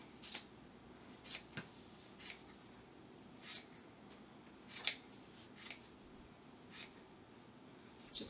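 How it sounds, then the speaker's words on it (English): Scissors snip repeatedly through looped yarn wound on pom pom pencils, a string of quiet, irregular crisp cuts close by with small pauses between them and no talking. "Just continually go around cutting your loops."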